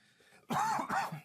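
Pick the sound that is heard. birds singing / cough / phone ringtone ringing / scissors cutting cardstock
cough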